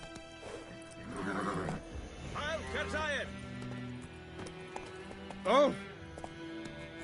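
Roach the horse in The Witcher 3 whinnies and snorts, with a faint clip-clop of hooves beneath, and a voice exclaims once over the game audio.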